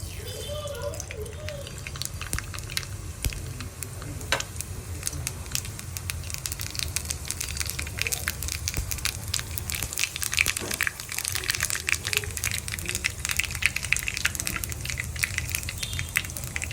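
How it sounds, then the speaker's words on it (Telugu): Cumin and mustard seeds sizzling in hot oil for a tempering for perugu charu, a steady crackling fry with sharp popping ticks, while a voice speaks over it. "తాలింపు వేసుకోవాలి."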